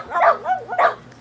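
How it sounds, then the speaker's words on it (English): A dog barks twice in quick succession in a backyard, loud and near, with a short whining yelp between the two barks. "Sorry about all the barking."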